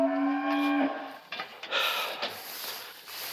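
Dairy cows in a barn let out a long, close, loud moo, followed by shuffling, snorting and quieter barn noises.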